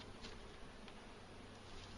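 Honey bees buzzing around an opened hive while a third honey super is added to a strong colony, a faint, steady insect hum with a few brief louder passes of individual bees.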